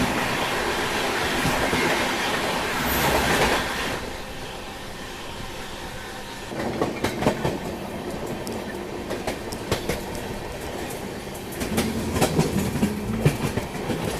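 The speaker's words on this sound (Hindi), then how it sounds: "और ये क्रॉस हो रही है नई दिल्ली लखनऊ शताब्दी एक्सप्रेस।" The New Delhi–Lucknow Shatabdi Express passing on Indian Railways, a sustained rumble of railcars with rhythmic clickety-clack wheel beats and faint wheel squeal, close and steady throughout.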